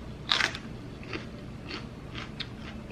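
Someone bites into a crunchy unripe banana pepper, one sharp crisp crunch followed by several softer chewing crunches at a slow, even pace, close and quiet.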